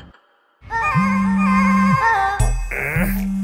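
A phone ringtone plays a steady electronic melody with sustained tones, loud and close, repeating in short phrases after a brief silence at the start.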